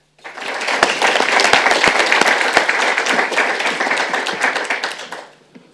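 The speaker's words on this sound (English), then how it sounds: "I ask for a warm applause for welcoming Shenggen Fan." An audience claps warmly to welcome a speaker, the applause swelling quickly, holding steady and full for several seconds with a few sharp individual claps, then fading out.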